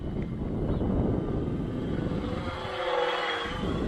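Electric motors of a foamboard VTOL tail-sitter plane buzzing in flight, a steady whirring drone with wind buffeting that shifts in pitch near the end as the two motors fall out of sync.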